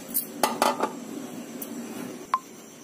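Firm guavas dropped into a pressure cooker for boiling, giving a few sharp knocking clunks in quick succession near the start and one more bright knock after a pause, close by with no talk.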